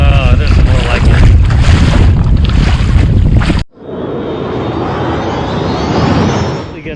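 Wind buffets the microphone and rough swells slap around a pedal kayak out on open water, loud and gusty, with a sudden drop to a steadier rush of water halfway through.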